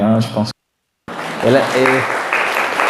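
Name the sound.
applause in a church after a child's reading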